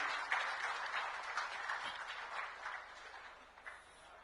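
Applause for a senior BJP leader at a political event in Ambikapur, a broad crowd of clapping hands sustained for about four seconds, fairly distant and steady before easing off slightly at the end.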